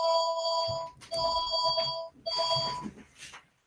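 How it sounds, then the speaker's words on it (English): A telephone rings in repeated bursts, three trilling electronic rings separated by brief pauses, steady and fairly loud in the background with no talk over it. "I apologize for the phone ringing in the background"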